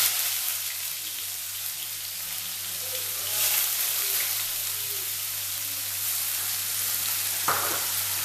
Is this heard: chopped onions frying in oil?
yes